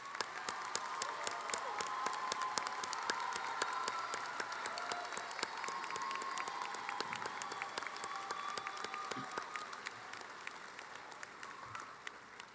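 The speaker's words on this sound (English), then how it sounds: "Faculty, would you please rise and so we can give you a round of applause." A university commencement audience applauds the faculty as they rise, producing sustained, steady, moderately distant applause from a large crowd, with dense, even clapping continuing throughout.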